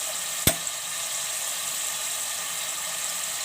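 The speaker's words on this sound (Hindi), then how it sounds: "1 से 2 मिनट हम मसालों को अच्छी तरीके से भूनेंगे।" Ground spices frying in oil in a pan for keema capsicum, a steady close sizzle with one sharp click early on, no talking.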